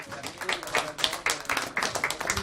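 An audience at an esports semi-final event applauds the team captain of a League of Legends squad, with fairly dense, steady clapping and a few louder bursts throughout.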